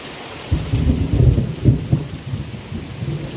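A thunderstorm over a farm field: steady rain pours down while low, rolling thunder rumbles swell and fade several times, loud and close with no voices.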